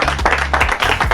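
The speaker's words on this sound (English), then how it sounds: "And we could give them a round of applause from everyone in their place." A round of applause from a crowd gathered in place, a burst of dense overlapping hand claps running steadily for about a second, fairly loud and close, with no talking over it.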